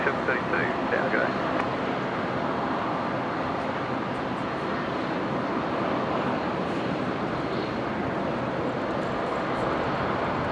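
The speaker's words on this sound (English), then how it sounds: "So the Qantas Link Dash 8 there, Qantas Link 812, is heading to Moranbah, lining up now" Qantas Link Dash 8 aircraft lining up on the runway at Brisbane International Airport, a steady broadband engine and propeller roar held at constant loudness throughout, with faint talk briefly near the start.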